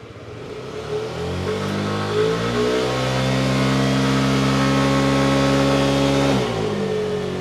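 A 2024 Yamaha Xmax 125 scooter engine runs and accelerates steadily, its drone climbing in pitch over several seconds, then cutting off sharply near the end. It sounds loud and close, with no talking.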